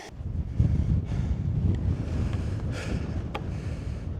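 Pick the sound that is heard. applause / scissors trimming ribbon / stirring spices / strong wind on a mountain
strong wind on a mountain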